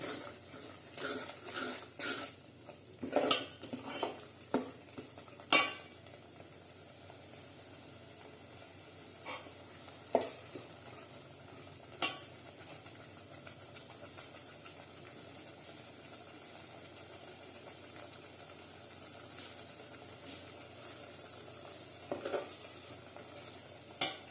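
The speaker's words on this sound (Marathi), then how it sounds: "थोडंसं तेल सुटेपर्यंत परतून घेऊया" Masala sautés in oil in a pan, a soft continuous sizzle broken by sharp clinks and scrapes of a spoon against the pan, close up with no talking.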